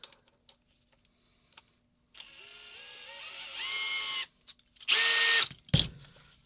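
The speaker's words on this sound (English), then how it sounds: "I was holding my drill in the vise." A power drill clamped in a vise whines up in pitch for a couple of seconds, stops, then gives two louder bursts, with light clicks and handling taps before it, while work is done on LCD buttons.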